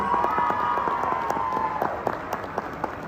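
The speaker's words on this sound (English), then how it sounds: "Let's give a round of applause for all those students." A crowd at a sixth grade promotion ceremony applauds steadily, the clapping loud and dense with a few sharper claps standing out as it goes on.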